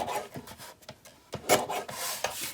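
Scissors cut apart paper die-cut words in short, close bursts of rasping snips and rustling paper, quiet and alone with no voices.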